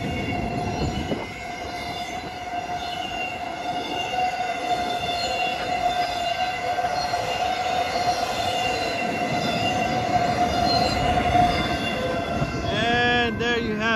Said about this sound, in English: Looks like an empty container train passing through my hometown.